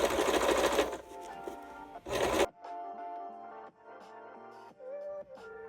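A sewing machine stitches a fabric waistband in several runs, its rapid whirring motor stopping and restarting in short bursts, close up and with no talking.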